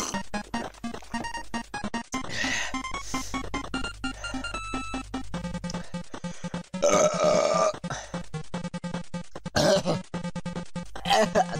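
Repeated loud, close burps from someone who has just eaten hot sauce, stretched out and groaning, with game music and sound effects playing under them.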